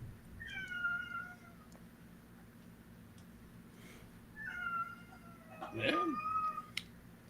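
Cat meowing twice close by, a drawn-out mew near the start and another a few seconds later, with a sharp click and brief quiet talk over the second.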